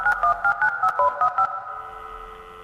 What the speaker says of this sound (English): Your pal Rambley has the repairman on speed dial.